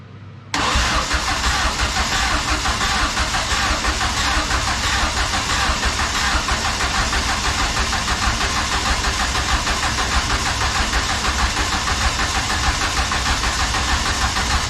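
A car engine being started during final preparations before a first drive: a short crank after a silent moment, then the engine catches and runs at a loud, steady, even idle for the rest of the time, no talking.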